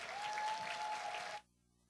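Audience applause welcoming the Thursday morning class onto the stage at a church discipleship-class graduation ceremony, a dense steady clapping that runs about a second and a half and then cuts off sharply.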